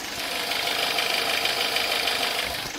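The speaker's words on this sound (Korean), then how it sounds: "그럼 바로 엔진 사운드 담아드리도록 하겠습니다." A Hyundai Grandeur HG sedan engine idling up close with the hood open, a steady, even hum with a faint regular knock and no voices.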